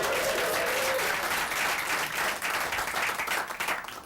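A large university audience at Michigan State claps and cheers in a dense, steady roar that stays loud and close throughout, with no pauses.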